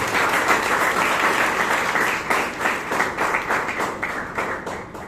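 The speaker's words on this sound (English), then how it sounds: "give a huge round of applause to our president" Steady audience applause at a Toastmasters meeting in Bangalore, many hands clapping together at a dense, even pace, gradually thinning slightly toward the end.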